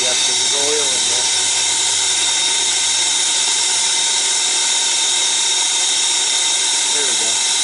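A brazing torch roars steadily and close while heating the body and joint of a refrigeration compressor, a continuous loud hiss with a faint voice beneath it.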